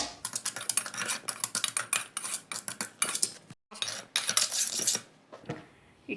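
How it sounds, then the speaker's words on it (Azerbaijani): Metal spoon stirring sugar and cocoa powder together in a bowl for chocolate sauce, a fast run of close clinks and scrapes against the dish, a brief pause, then more scraping and a few last taps, with no talk. "Şəkər tozuyla laxmamızı, şəkər tozuyla kakaomuzu qarışdırırıq."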